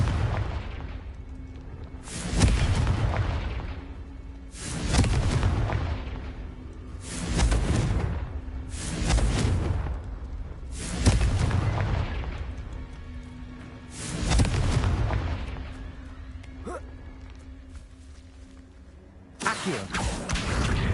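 Confringo blast spells explode repeatedly in the video game Hogwarts Legacy, about eight loud booming blasts at roughly two-second intervals, each decaying into rumble over a low hum.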